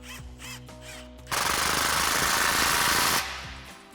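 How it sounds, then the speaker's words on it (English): A 15mm socket on a power tool tightens the exhaust clamp of an MBRP Armor BLK dual exhaust on a 2021-2023 Ford F-150, a loud, steady, rapid hammering burst lasting about two seconds, then stopping. "tighten that down with a 15mm socket"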